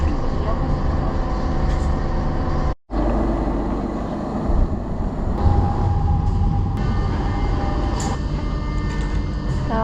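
Steady rumble and rolling clatter inside a train travelling to Montserrat near Barcelona, a continuous carriage drone with a brief dropout partway through and faint talk in the background.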